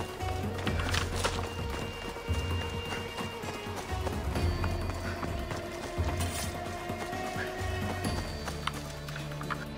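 Horse hooves clip-clopping in Assassin's Creed Odyssey, a steady run of hoofbeats over busy game ambience with music, continuous and fairly close, with a possible whinny in the mix.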